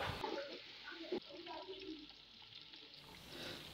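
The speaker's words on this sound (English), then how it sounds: "I will stir and allow it to fry a bit" Chopped onion sizzles and fries in a pot for a Nigerian chicken stew, a faint, close crackle with a brief clatter of stirring near the start.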